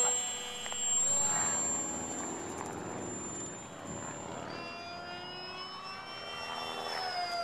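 The electric motor of a pylon racer RC airplane whines as the plane flies past at a distance, its pitch rising and falling with a Doppler sweep, fairly faint against open outdoor air.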